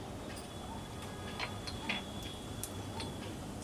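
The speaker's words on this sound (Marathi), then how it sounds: "मोहरी तडतडली आहे" Mustard seeds spluttering in heated oil for a tempering, giving sparse, faint pops and crackles spaced a second or so apart over a soft, steady hiss, with no talk.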